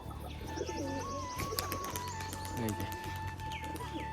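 Domestic pigeons, including white ones, released from a house coo and chirp, with brief wing flaps, over a steady background hum and faint voices.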